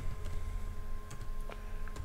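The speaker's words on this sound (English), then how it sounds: "So now we can type in LightShowPi" Typing on a computer keyboard while entering a command for LightShowPi Christmas light software, a few scattered keystroke clicks over a steady low room hum, close and fairly quiet.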